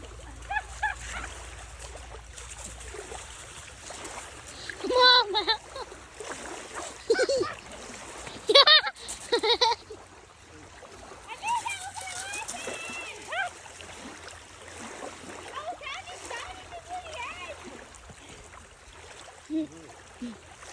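A person falls off an under-inflated inflatable paddleboard into open water at a Scottish wild swim spot, giving a few sharp splashes amid lapping, trickling water, with talk mixed in.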